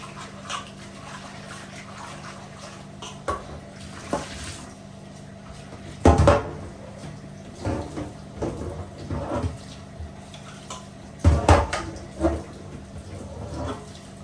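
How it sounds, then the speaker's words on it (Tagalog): Plates being scrubbed by hand while washing dishes, giving faint rubbing and scraping with a few sharper clinks of dishware, including brief louder bursts, over steady low background hum. "Kuskus ng plato."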